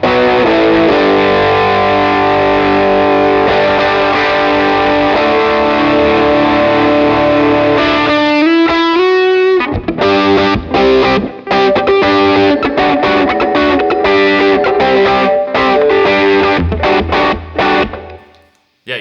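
Electric guitar driven through a PRS Horsemeat Drive overdrive pedal, a loud, gritty sustained chord and riff passage that shifts into choppy, staccato stabs with brief gaps, ending in a sudden cutoff.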